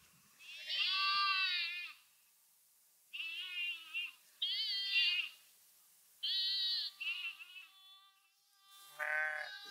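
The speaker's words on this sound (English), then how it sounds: "Sheep." Sheep bleat in a series of loud, close calls, about five separate bleats with short pauses between them and a quiet background.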